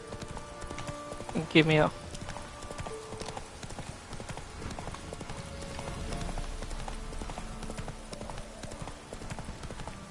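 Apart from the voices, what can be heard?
horse galloping in video game The Witcher 3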